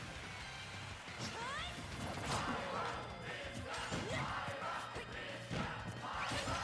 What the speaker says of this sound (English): Oh, the crowd is loving Hithra Myra.